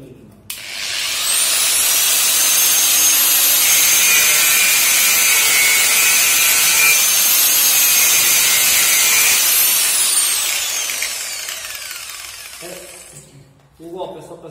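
A power tool, likely an angle grinder or cutoff wheel, cuts a notch into a Keeway Superlight 125 motorcycle footpeg tube: a loud, steady high-pitched whine for about ten seconds that then winds down and fades, with brief clanks at the end.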